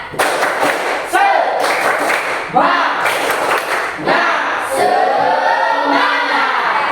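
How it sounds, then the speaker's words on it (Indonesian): Ninth-grade students in a classroom repeat the tepuk semangat clap routine, loud patterned clapping and thuds mixed with chanting voices, near and lively. "Oke, sekali lagi biar lebih semangat. Tepuk semangat."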